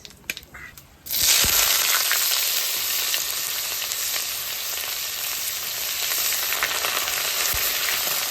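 Onion drops into hot oil spiced with cumin, bay leaf and dried chili for a fish curry, setting off a sudden loud, steady sizzle that carries on with faint stirring scrapes.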